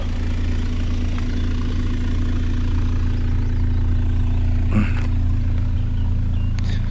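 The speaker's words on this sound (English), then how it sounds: "And yes, his exhaust is still blowing." A Toyota MR2 engine idles steadily with a low, even rumble and a faint puffing pulse from a blowing exhaust, a couple of light clicks breaking through near the end.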